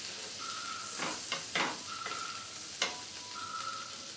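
Homemade butter sizzles and crackles in a pan on a gas stove, a steady frying hiss broken by a few louder scraping stirs and pops at close range.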